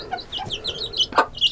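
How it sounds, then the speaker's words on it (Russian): Hungry chickens cluck in quick, overlapping high calls while hopping at a feed bowl in a rural yard, with a louder squawk near the middle and steady nearby activity throughout. "Вот такие у меня цыплята, голодающие по Волжье."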